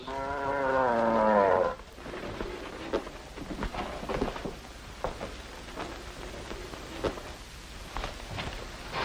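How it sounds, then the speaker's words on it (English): A cow gives a single loud, drawn-out moo on a ranch, followed by quieter shuffling and thumps. "Stolen cows."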